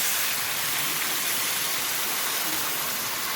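Water pours into a pot of mutton yakhni pulao holding half a kilogram of rice, a loud, even gushing rush that continues unbroken for a few seconds.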